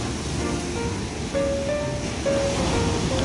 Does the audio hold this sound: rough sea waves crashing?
yes